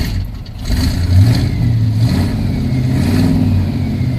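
Chevy truck engine on a cold start, running loud and rough with low rumbling and a brief rev near the start, then settling into an uneven idle up close, no talk.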